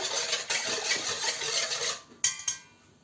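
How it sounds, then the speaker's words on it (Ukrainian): A spoon scrapes and swirls steadily through sugar in a bowl, a continuous gritty rubbing, ending with a couple of sharp clinks. "Тепер цукор цей розмішуємо"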